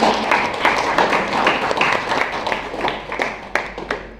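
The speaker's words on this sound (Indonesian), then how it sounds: "beri tepuk tangan untuk pemateri kita hari ini" Seminar audience gives the speaker a round of applause, a fairly close, uneven patter of hand claps that rises and thins over several seconds with scattered sharper individual claps.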